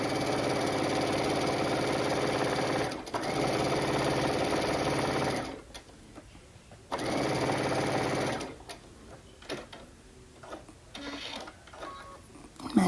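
A sewing machine stitches a quilt triangle seam in rapid steady runs, stopping and starting several times, with quieter handling noises and pauses in between.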